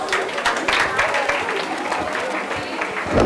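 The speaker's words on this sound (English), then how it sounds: "Give him a big shout and a big round of applause," An audience at an international nursing college conference applauds with a steady, dense round of clapping that fills the room, fairly loud and close, with indistinct voices mixed in.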